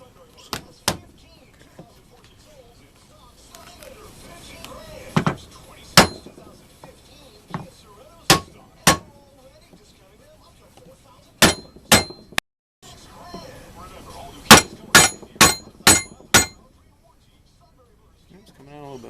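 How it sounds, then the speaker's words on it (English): A piece of horn mounted on a mandrel is struck with a hammer, sharp, loud metallic blows landing singly and in quick clusters of three to five, separated by pauses with low background talk. "we're going to start the process of hammering it into the horn"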